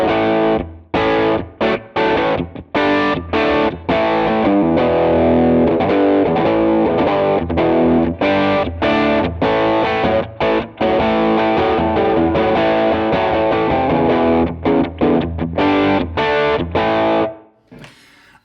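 An electric guitar plays chords and riffs through a lightly overdriven, crunchy tone from a Sonicake Matribox 2 Pro effects unit, with rhythmic stops, ending on a fading ring.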